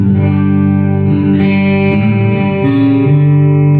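Electric guitar played through a Boss GX-10 processor with chorus and delay, sustained ringing chords that are loud and close, shimmering and washing into long echoing tails with no amplifier in the chain.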